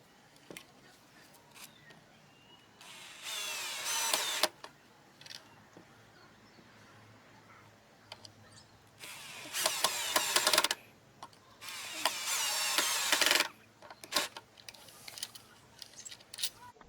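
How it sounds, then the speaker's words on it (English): A small drill drives screws into pre-drilled holes in pallet wood for a cold frame seed propagator, in three or four short bursts of high whirring separated by quiet pauses. "So I'm just going to put some small screws there."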